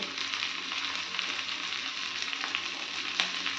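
Onion, capsicum and tomato sizzle together in a frying pan for chilli paneer, a steady, dense frying hiss with faint stirring scrapes and no talking.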